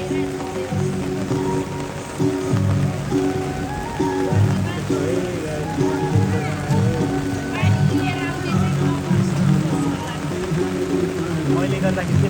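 Steady rain patters on surfaces outdoors in Tokyo, a constant hiss under nearby people talking.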